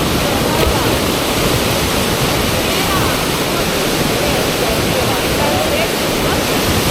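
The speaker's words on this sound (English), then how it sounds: "The sound of the river sounds nice." A river rushes past nearby where young people are surfing, producing a loud, continuous broadband roar of turbulent water that stays steady throughout.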